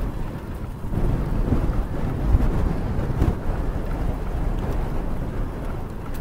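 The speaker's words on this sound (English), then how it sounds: "Really didn't expect it to be this gusty this soon." Gusty outdoor wind buffets the microphone during a bike ride after days of rain, a low rumbling roar with surges and bursts throughout and no speech.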